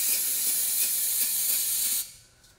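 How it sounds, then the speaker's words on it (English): Brake cleaner sprays in a loud, steady hiss into a power steering tube of a Toyota Sequoia, a continuous close burst lasting about two seconds before cutting off. "I sprayed the brake cleaner inside of that larger tube"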